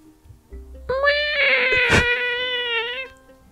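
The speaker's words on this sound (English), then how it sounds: "That's my cat." A cat lets out one long, drawn-out meow, loud and close, rising and wavering before trailing off.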